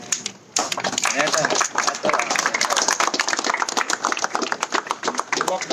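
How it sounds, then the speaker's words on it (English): A crowd applauds an ex-Sarpanch outdoors at the inauguration of Tito's Lane in Baga, Goa, with loud, sustained, dense clapping from many hands close by and some voices mixed in. "Let's clap for him."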